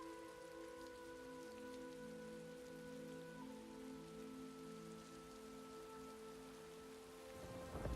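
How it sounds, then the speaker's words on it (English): Steady, even rain falls on surfaces during a storm in The Elder Scrolls Online, a continuous wash of patter under soft ambient tones, with no one speaking. "I could do without this damnable rain. It's been storming since we arrived, and it shows no sign of letting up."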